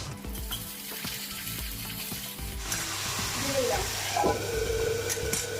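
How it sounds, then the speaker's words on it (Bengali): Fried bitter gourd tipped into a hot pan with chopped garlic, a steady close sizzle of frying with some stirring, the hiss building and rising slightly toward the end. "উচ্ছে ভাজাটা দিয়ে দিলাম"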